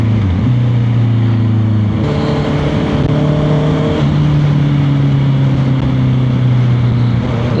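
Honda CB650R E-Clutch motorcycle with inline four-cylinder engine heard while riding, a loud close engine drone that steps up and down through gear changes with sustained tonal whine and wind rush, no talking.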